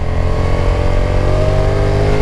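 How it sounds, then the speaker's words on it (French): Honda NT1100 DCT motorcycle engine while decelerating, with the automatic gearbox adding quick throttle blips; a loud, close, steady droning engine note that holds constant with no voices. "Il y a des petits coups de gaz à la décélération qui sont faits automatiquement par la moto."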